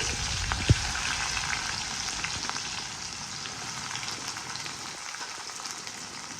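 Onions and green chillies frying in oil with cumin, a steady close sizzle with a few faint pops and crackles running through, no voices.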